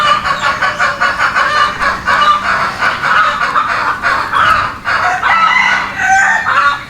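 Desi chickens kept in a cleaned-out store room on a backyard poultry farm cluck and crow loudly and steadily, several birds calling over one another close by without a pause.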